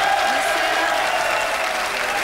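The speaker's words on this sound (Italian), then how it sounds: "Hai avuto gli applausi anche dei direttori, come hai visto?" Applause in a television studio for a 1999–2000 Italian football talk show, a dense steady wash of clapping lasting about two seconds at even loudness, with a faint voice audible underneath.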